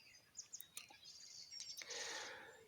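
Small birds chirp and sing outdoors in a quiet evening landscape during a deer hunting stakeout, with short bright calls scattered over faint background ambience, followed by a louder, denser burst of song.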